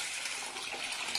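Rice and moong dal are washed in water in a kitchen while pongal is being prepared, a steady, close, hissing splash of water with no speech.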